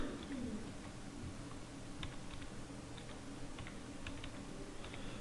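Typing on a computer keyboard while entering data in Excel, soft scattered key clicks in short irregular bursts over a constant low room hum.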